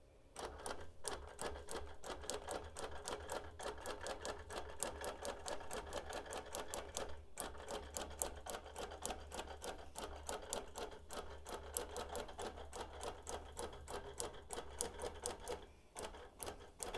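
A sewing machine runs a basting line across a quilt, a fast, steady rattle of stitching held at an even pace with one brief pause near the middle and a quiet ending.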